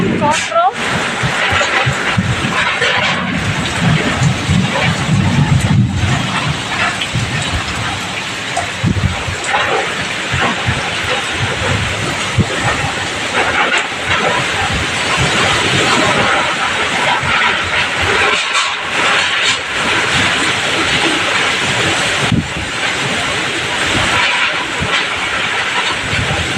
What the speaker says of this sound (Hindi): वर्षार तांडव लीला काल बैशाखीर तांडव लीला